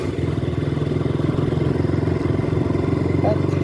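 Close, loud steady drone of a KTM Duke 200 motorcycle engine under way, a pulsing mid-range motor tone that holds throughout with little change.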